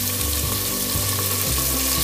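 Chopped carrot, cauliflower florets and cabbage frying in a pan, a dense continuous sizzle with rhythmic tossing scrapes repeating every half second or so, close and steady, no talking.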